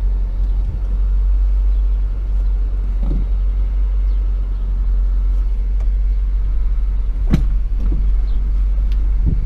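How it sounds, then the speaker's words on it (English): A car idling and creeping forward onto a tow dolly, a steady close low engine rumble with a couple of brief knocks and bumps as it rolls up, no talk. "I'm just going to drive right up on the dolly and hopefully not go over"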